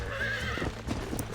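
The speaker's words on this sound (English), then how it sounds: "I think I have a broke horse in Red Dead 2." Horse in Red Dead Redemption snorting and whinnying over a quick patter of hooves, close and clear in a brief burst with no talk.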